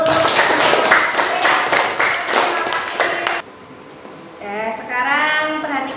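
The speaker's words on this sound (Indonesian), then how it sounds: "beri tepuk tangan dulu" A school class claps together during a physics lesson on mechanical energy, brisk overlapping clapping for about three seconds that stops abruptly, followed by a quieter pause and then a voice speaking.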